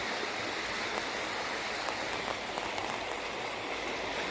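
Floodwater from the swollen Beas river rushing past, a steady broadband roar of flowing water that stays constant throughout, fairly close and alone without voices.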